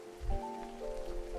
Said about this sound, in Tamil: மழை கொஞ்சம் கொஞ்சமாக அதிகரித்தது.